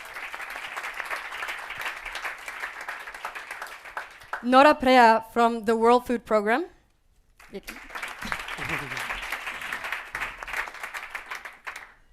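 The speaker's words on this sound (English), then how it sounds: "So please a big round of applause" A conference audience at an impact investing evening gives panelists sustained applause, which breaks for a brief spoken introduction and then swells again into a long, steady round of clapping.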